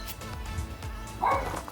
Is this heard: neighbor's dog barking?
yes